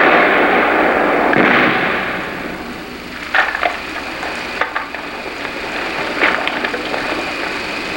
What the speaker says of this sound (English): both security teams fire their claymores